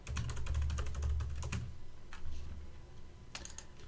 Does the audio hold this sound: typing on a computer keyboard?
yes